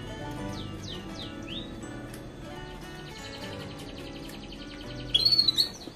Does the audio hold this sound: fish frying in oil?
no